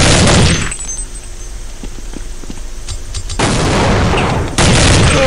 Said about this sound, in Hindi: अदील के पास फायर हुआ है शॉट।